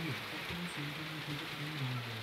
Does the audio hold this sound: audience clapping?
no